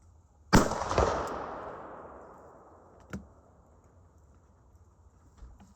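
Rifle gunshot outdoors, a single sharp loud crack followed by a long rolling echo that fades over several seconds, with a fainter distant report afterward.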